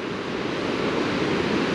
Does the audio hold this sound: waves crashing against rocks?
yes